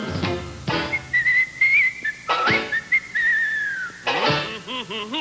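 Melodic whistling, loud and close, in several sustained phrases with short breaks between them, no talking.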